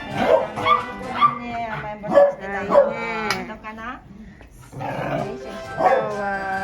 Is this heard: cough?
no